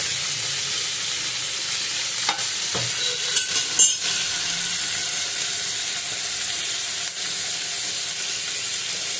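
Morola fish frying in a pan without spices, a steady soft sizzle and hiss throughout, with a few brief clinks and stirring knocks near the middle.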